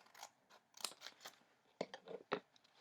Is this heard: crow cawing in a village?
no